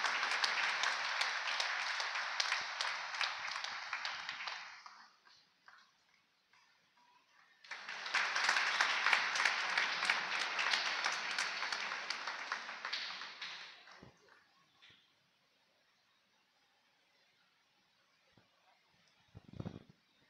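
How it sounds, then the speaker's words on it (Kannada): An audience applauds at a church ceremony installing a parish priest. Two sustained bursts of clapping fill the hall, each fading out, followed by near silence and a faint knock at the end. "ಚಪ್ಪಾಳೆ ತಟ್ಟಿ ಅಭಿನಂದನೆ ಸಲ್ಲಿಸೋಣ"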